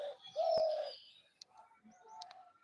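Pigeons coo softly close by while being fed paddy grain, one longer coo followed by a few quieter calls and a couple of faint clicks against a near-silent background.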